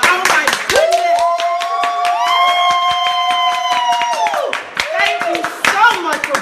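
A studio audience claps loudly and steadily as a voice calls out over the applause, with a short lull and then more clapping.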